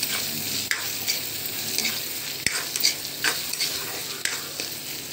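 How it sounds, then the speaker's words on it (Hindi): Chopped onion with a little red chilli sautéing in a pan for a rahar dal and galka sabzi, a steady close sizzle broken by occasional stirring scrapes, with no talk. "ये प्याज अच्छे से इसको भूनते हैं"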